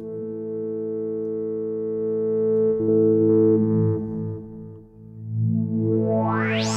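A sustained electronic tone from a Polysynth preset in Bitwig Studio 5 with layered harmonics, smearing into echoing, reverberant delay and reverb swells and ending in a rising sweep.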